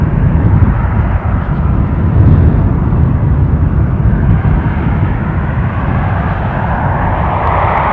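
KLM airliner at Newcastle International airport, a loud steady jet engine roar held close and continuous throughout, swelling slightly toward the end with no voices.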